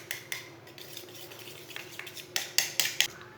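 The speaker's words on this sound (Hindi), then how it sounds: "केचप और माइनस को मैंने मिक्स कर लिया।" A spoon mixes ketchup and mayonnaise in a bowl, giving soft scraping and a run of light clinks against the dish that grow sharper toward the end, close and quiet, with no voices.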